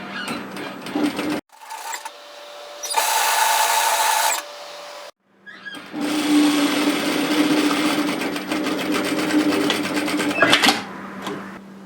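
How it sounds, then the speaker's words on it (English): A domestic sewing machine runs in bursts along the long edge of a jacket sleeve seam, two loud stretches of steady whirring with brief pauses between. "we're folding it right side together and we're going to sew this long edge at 1 centimeter, 3/8 of an inch"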